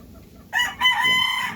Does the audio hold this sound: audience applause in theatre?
no